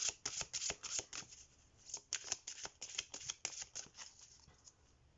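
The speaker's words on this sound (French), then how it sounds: "Bon, je vais tirer maintenant, je rangerai mes cartes après." Tarot cards are handled and drawn from the deck in a quick series of crisp, papery flicks and snaps, close and quiet, with no talking.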